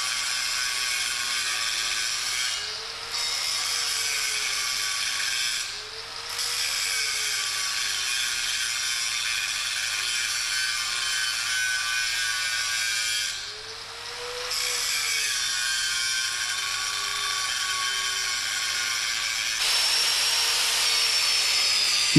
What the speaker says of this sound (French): Saignez à la meule fine.